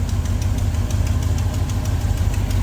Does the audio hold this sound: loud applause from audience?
no